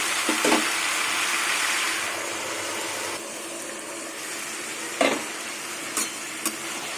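Fried lentil dumplings stirred into cooking mixed vegetables with whole mung dal and chickpeas, a loud close sizzle fading after a few seconds, followed by a few sharp utensil knocks against the pan and no talk.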